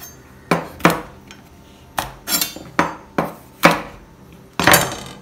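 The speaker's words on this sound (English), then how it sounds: "Now we'll cut the bhindis, cut the edges first and chop them about 1 inch piece." Knife chopping okra into 1-inch pieces on a cutting board gives about nine sharp, separate taps at an uneven pace, close and clear, with no talking.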